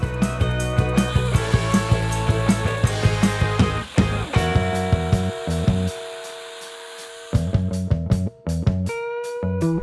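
A manual hand saw cuts through wood in steady rhythmic strokes, each push and pull giving a rasping, buzzy scrape, with a brief pause midway and near the end, close and loud with no talking.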